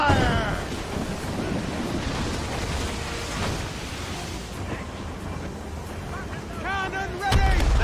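Ship cannon fire in the Assassin's Creed Rogue naval combat game, heavy booming blasts rolling over constant wind and ocean surf, with shouted voices and a final loud burst near the end.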